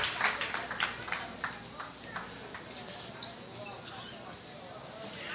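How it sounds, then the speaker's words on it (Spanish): A church congregation in Caracas clapping their hands together, a steady patter of rhythmic claps that fades somewhat over time, with a voice speaking over it. "Palmas al Señor"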